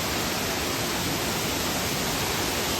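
Paadjao Falls in Marinduque pours in a constant, dense roar of rushing water, heard close and steady throughout with no pauses or other sounds.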